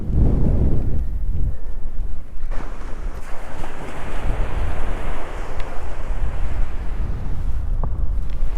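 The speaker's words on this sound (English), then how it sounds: "Mega windy." Loud, steady wind roars and buffets the microphone throughout, with a broad rushing noise and no voices.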